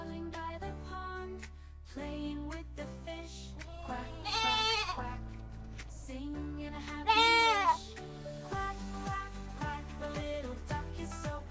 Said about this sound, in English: Goat kid.